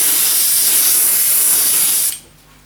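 Airbrush spraying weathering paint under a 7mm Heljan VAA model wagon, a loud, steady close hiss of compressed air for about two seconds, then cutting off to a faint background.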